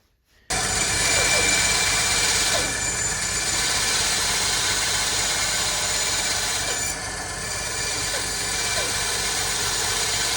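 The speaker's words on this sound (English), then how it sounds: "What we need to do now is get our slot cut in here in the very back. And we'll do that on the bandsaw." Bandsaw cutting a slot into the back of a wooden swimbait body, a loud continuous whine and rasp of the blade through wood, close up and steady, dipping slightly partway through.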